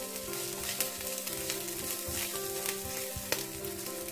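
Ginger and garlic crisping in hot oil for prawn fried rice, a loud, continuous close sizzle with faint stirring scrapes and a steady tonal hum beneath.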